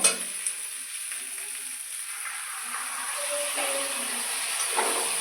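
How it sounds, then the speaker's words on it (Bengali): Small new winter potatoes frying in oil in a pan, a soft steady sizzle with faint crackles, fairly quiet and continuous. "দেখুন আলুগুলো আমার ভাজা হয়ে যাচ্ছে"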